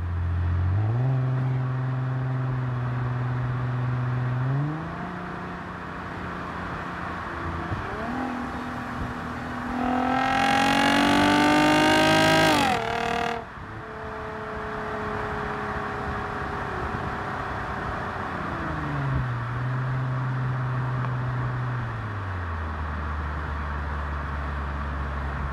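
Lexus IS250/IS350 with automatic transmission downshifting step by step into second gear, engine hum jumping up in distinct steps, a brief loud rev blip in the middle, then settling and dropping back to a low idle-like drone.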